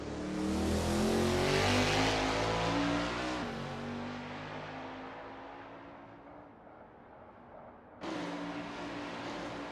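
A 1989 Camaro Z28 IMSA GTO race car on a practice lap around the Daytona road course in a racing game revs loudly, holding a long falling drone before a sharp burst of acceleration near the end, with no voices.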